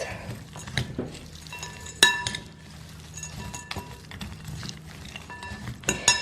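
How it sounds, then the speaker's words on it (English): Granola bar ingredients being stirred together in a bowl, with a spoon clinking and scraping against the side in irregular taps and a few sharper knocks, close and fairly quiet. "And then you just need to give it a little mix."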